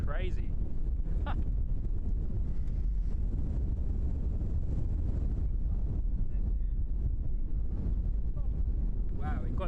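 Strong wind buffets the microphone at Christchurch Airport, a loud, steady roar with gusting rumble throughout, with brief faint voices at moments.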